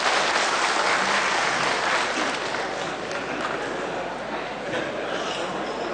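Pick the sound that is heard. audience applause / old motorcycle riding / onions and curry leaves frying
audience applause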